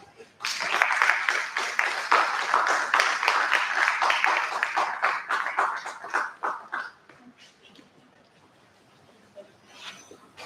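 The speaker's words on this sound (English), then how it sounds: "Please let's give him another round of applause." Audience applause follows a talk at a stakeholder meeting on the plantain seed value chain, sustained clapping from a room of people that thins and fades after several seconds, with a brief spatter near the end.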